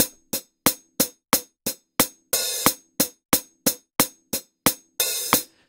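A tightly timed, quantized drum beat programmed in Studio One: evenly spaced sharp kick and snare-like hits with occasional brighter crash accents, perfectly regular, loud and alone.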